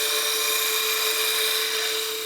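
Wood lathe taking smooth, controlled cuts while turning a baseball bat near final diameter: a steady, loud, high whine of the tool on spinning wood, unbroken throughout.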